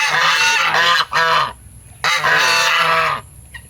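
Loud, harsh honking close by from a white male goose in two long bursts, with a short pause between them.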